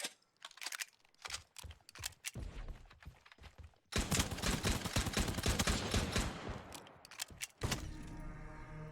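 Gunfire in the video game Sabotaj: scattered single shots and short bursts at first, then a dense continuous fusillade of rapid automatic fire, fairly quiet overall with no talking.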